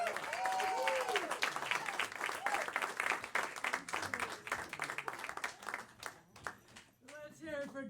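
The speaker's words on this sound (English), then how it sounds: "So I'd love to give a big round of applause for Miss Mary Frances Connelly." A comedy club audience applauds a comedian with a dense burst of clapping, and a host talks over the noise before the clapping thins out near the end.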